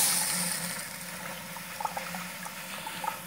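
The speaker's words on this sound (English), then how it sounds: "I drained all the water out of the line by opening the hose bib" Water drains from a house's water line out of an open hose bib, a steady gurgling rush with a few small splashy pops toward the end.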